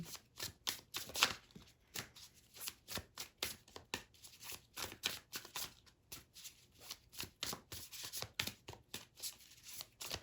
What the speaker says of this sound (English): They're telling me to shuffle like 3 more times, so bear with me.